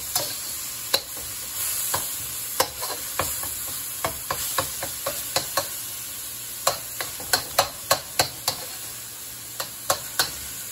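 Chicken stir-frying in a pan for chicken subgum chow mein, a steady close sizzle broken by frequent sharp clicks and scrapes of a utensil against the pan, with no talking.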